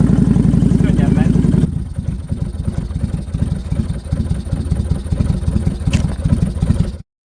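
A 30-year-old Kawasaki VN800 Vulcan motorcycle engine revs loudly after starting, then drops to a steady, close, loping idle with a rhythmic mechanical clatter before cutting off.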